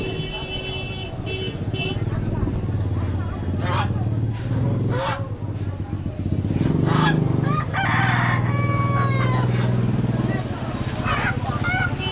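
Chickens and roosters at a crowded chicken market, roosters crowing repeatedly amid constant clucking, with a steady hubbub of people talking and passing traffic throughout.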